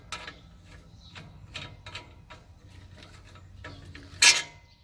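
Hitch pin being twisted loose and pulled from the tow bar of a Power King 14 HP chipper shredder, giving faint metallic clicks and scrapes, then a sharp louder clink near the end.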